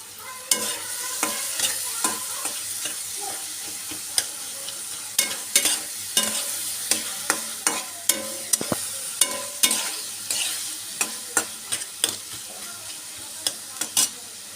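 A spatula scrapes and clacks repeatedly against a pan, stirring egg stuck to it, in an irregular rhythm over a soft background sizzle, close up, with no talking.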